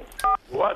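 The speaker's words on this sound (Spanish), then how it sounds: "2244 en el teléfono, hay que marcar." A telephone keypad dialing the code 2244 to switch off an alarm, short electronic DTMF tones in quick succession, with a voice speaking around them.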